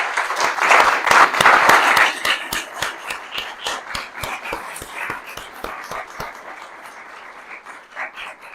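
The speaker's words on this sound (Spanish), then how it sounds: "nos tendremos que despedir dándole un aplauso muy caluroso a la maestra" Warm applause for a teacher, a burst of many hands clapping that soon thins into a slower run of individual claps, fading out before a last few scattered ones.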